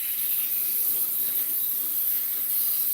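Cooking spray hisses steadily into the bottom of a muffin pan, a continuous close airy spray that holds for the whole stretch.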